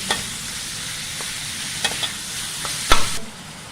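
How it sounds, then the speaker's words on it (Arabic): Ground meat sizzles in a frying pan while a utensil stirs it, with several distinct scraping clicks, the loudest near the end, before the sound drops off abruptly. "بس اما اقلبها واخليها متجانسه مع بعضها"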